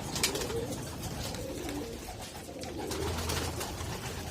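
Soft white pigeon coos and flutters mixed with faint chirps, a steady low murmur of several racing pigeons close by, with no talking.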